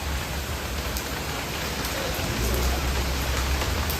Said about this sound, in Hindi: अचानक से तेज़ बारिश शुरू हो गई